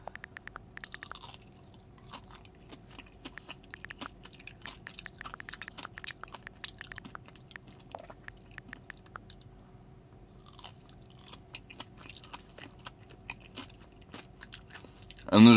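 Crunchy pistachio-filled Dubai chocolate is chewed close to the mic, a run of soft, irregular crunches and bites over quiet background, with no talking.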